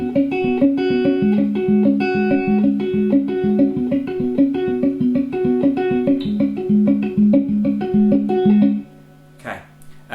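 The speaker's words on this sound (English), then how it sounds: "It's palm muted and it's quite low in the mix anyway in the track" Palm-muted electric guitar playing a steady, chugging low rhythm part, repeated short damped notes in a tight pattern for about nine seconds, then stopping abruptly with a brief noisy burst at the end.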